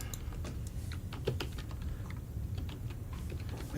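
Fingers type on a computer keyboard, a quiet stream of irregular clicking keystrokes heard alone and continuing throughout.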